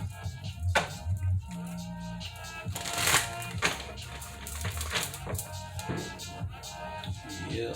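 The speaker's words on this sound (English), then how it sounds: "we get one more shuffle with these since it ain't that many of them." Tarot cards being shuffled by hand, a series of quick riffling flutters and soft slaps, close and fairly quiet.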